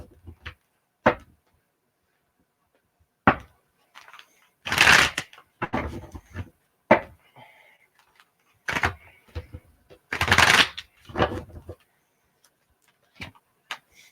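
A deck of tarot cards is shuffled close by in a string of crisp riffling bursts, some brief and some longer, separated by quiet pauses and a few soft taps.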